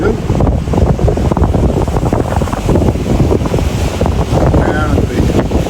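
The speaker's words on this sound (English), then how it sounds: "the water breaking rock that we're sitting on" Atlantic waves crash against the rocks of the Valentia Island coast in Kerry, Ireland, a loud churning surge heavily buffeted by wind rumble on the microphone.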